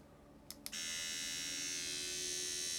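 An EZ Nano tattoo machine fitted with a needle cartridge switches on at 6 volts after two small clicks, then runs with a steady, close, high-pitched electric buzz.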